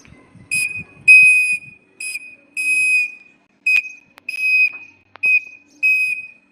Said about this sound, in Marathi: म्हणजे एक शॉर्ट आणि एक लॉंग शिट्टी असेल तर